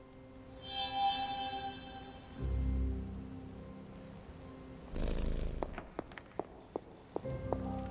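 A cat purrs in the video game Marvel's Midnight Suns, a low soft rumbling that comes and goes in short stretches amid quiet game ambience and a few light taps.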